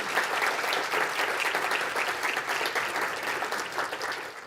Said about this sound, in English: let's thank them with a round of applause and welcome to you all